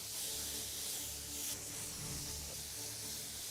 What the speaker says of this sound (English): Each pass of the spray gun builds upon the last,